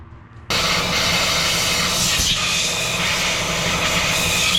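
Compressed air blasts loudly from a nozzle while blowing debris off twin-turbo 3000GT engine bearings, a sudden close hiss that starts abruptly and holds steady and strong throughout.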